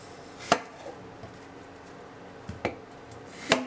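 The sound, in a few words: apples being cut with a knife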